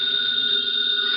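Telephone in a radio drama rings with a loud, steady electronic tone, held unbroken and alone, close and clear.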